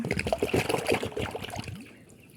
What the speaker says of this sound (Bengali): এবার পানিটা সুন্দরভাবে মিক্স করে দেব।